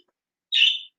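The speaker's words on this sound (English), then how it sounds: "the birds are noisy." A single short high chirp from a bird outdoors, clear against silence and lasting under half a second.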